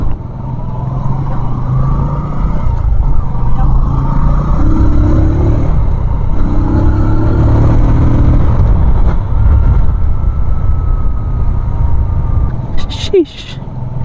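A Bajaj CT 125 motorcycle engine runs under way with a steady mid-pitched drone that swells and eases slightly, loud and close, with a brief sharp noise near the end.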